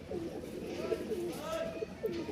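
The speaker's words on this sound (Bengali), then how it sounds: "জোড়া কবুতর দেখতে পাচ্ছেন মাশাল্লাহ" A pair of pigeons at a Dhaka pigeon seller's coo in soft, repeated rolling calls, close by and steady over a constant hum of background chatter.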